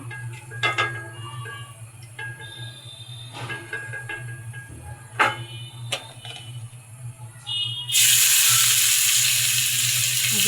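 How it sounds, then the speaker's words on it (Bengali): Chopped onions hitting hot oil in a pan for vegetable khichuri, with clinks of a utensil first, then a sudden loud, steady sizzle that fills the last few seconds. "পেঁয়াজটা দিয়ে দিচ্ছি পেঁয়াজটা হালকা লাল করে অত না ভেজে নিব"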